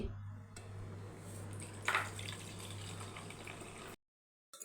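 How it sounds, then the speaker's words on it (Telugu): Water poured off soaked rice and lentils, a steady liquid rush and trickle with a brief splashy surge, then a sudden stop and a few faint drips. "నాలుగు గంటలు నానబెట్టుకున్న దాంట్లో నుంచి నీళ్ళన్నీ వంపేసుకొని"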